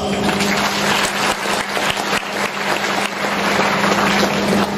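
Audience applause at an Islamic study gathering at IAIN Pekalongan, steady dense clapping that holds at an even level for the whole stretch, with no talk over it.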